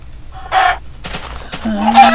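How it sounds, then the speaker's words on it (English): Short clucks and squawks of a chicken in a video game, a few separate bursts over about two seconds, fairly loud and close, with no talk. "The last chicken."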